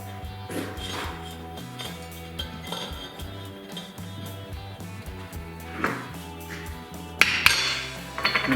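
A wooden block with a beveled edge is hammered against the old crankshaft seal in the timing cover of a 1955 Packard 352 V8, giving a few scattered sharp knocks over a steady, tonal background hum, with the loudest strikes near the end.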